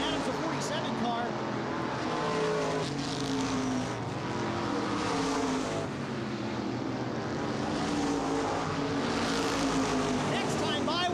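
ICAR Top Speed Modified race cars roar around the oval at Baer Field Speedway, their engines rising and fading as they pass, with an announcer talking over the racing.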